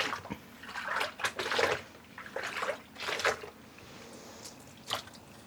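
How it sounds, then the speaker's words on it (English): A skein of freshly dyed pink mohair yarn being rinsed and squeezed in water, giving close, intermittent sloshing and dripping in short bursts with quiet pauses between. "And we're rinsing the other skein."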